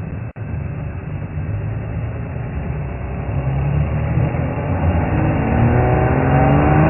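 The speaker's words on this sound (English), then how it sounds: "I didn't get much more than 5 miles an hour in first gear, but it got the revs up a little bit" A safari vehicle's engine revs steadily in first gear during a game drive at Thornybush Nature Reserve. The low, continuous motor drone climbs gradually in pitch and loudness, close up, with no talking.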